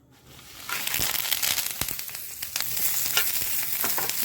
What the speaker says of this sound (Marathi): लसूण घेतला आहे थोडीशी चिंच घेतली लाल मिरची घेतली आहे आणि कडीपत्ता घेतली हे पण आता मस्त तेलामध्ये रोस्ट करून घेणार आहे